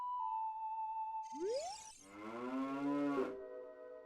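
A cow moos in The Legend of Zelda: Ocarina of Time after Saria's Song plays on an ocarina, a single rising, drawn-out low moo heard alone following a short melodic tune, with a brief chime near the end.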